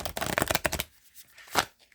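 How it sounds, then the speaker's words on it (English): Tarot cards are shuffled by hand at close range in a quick burst of crisp, papery riffling, followed by a pause and one more short flick of the deck. "these I gotta shuffle out here for a minute"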